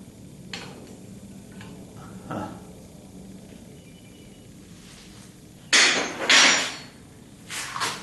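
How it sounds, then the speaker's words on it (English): An impact wrench works on a differential bolt of a 1976 Corvette, firing in short, loud rattling bursts near the end after a few scattered knocks and clicks. "enough broke off for the impact wrench to work"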